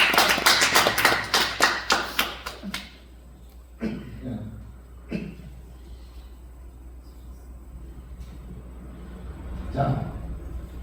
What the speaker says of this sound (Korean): 우리 박수 한번 내주세요